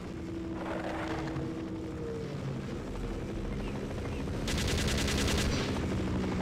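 Rapid gunfire in the video game Half-Life plays over a loud rumbling engine-like background drone, with a dense burst of shots near the end.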